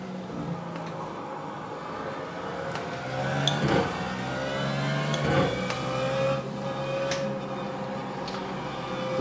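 Simulated BMW Z4 GT3 race car in iRacing at COTA, with a steady engine drone and rising gear whine plus a continuous rolling tire hiss throughout, moderately loud and alone without talk.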